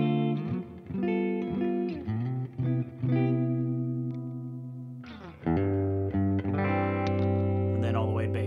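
An electric guitar with its pickup selector in the three-way position gives a mellow middle tone, played as sustained chords and single notes with effects, a pause, then more chords.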